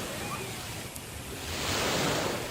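Ocean waves wash over a beach as a radio drama effect, a continuous broad surf roar that swells gradually louder in the second half, with no talking over it.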